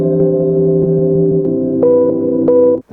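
A sampler built from a single Lush Roads chord groove loop plays a short run of sustained, harmonic chord stabs, with the pitch stepping up midway, loud and close, ending in an abrupt cut with a brief click.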